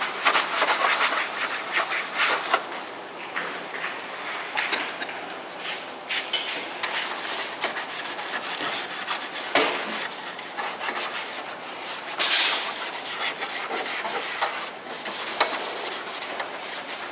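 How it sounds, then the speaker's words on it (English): Steady abrasive scuffing across a C7 Corvette hood panel surface, a close, continuous rasping rub with repeated back-and-forth strokes and a louder burst partway through. "So you want to scuff this all up like so."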